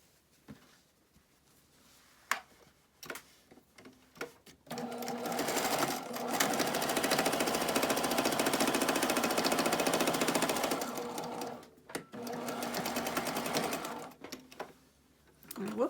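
A sewing machine stitches a wasp nest decoy in a loud, fast, continuous close run of several seconds, with scattered clicks and handling knocks before and after it and brief speech nearby.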